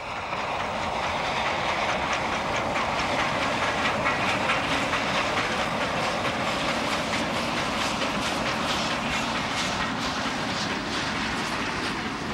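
An old Jodhpur Railway 460 class steam locomotive in worn mechanical condition runs at speed in Pakistan, giving a continuous loud hiss and clatter with rhythmic wheel clicks.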